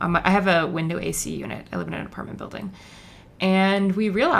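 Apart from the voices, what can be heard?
No distinct noise like a dog, phone or traffic.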